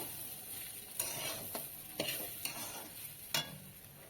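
A spoon stirs bhuna khichuri with a generous amount of turmeric in a pot, giving a few soft scraping strokes over a low, steady sizzle.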